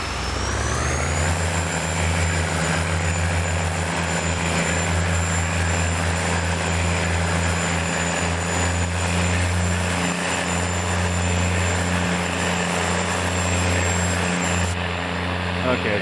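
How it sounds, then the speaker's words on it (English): A tractor engine in Farming Simulator 19 drones loudly and steadily throughout, a deep constant rumble with a thin high whine riding on top, unbroken and close. "Man, this tractor's loud."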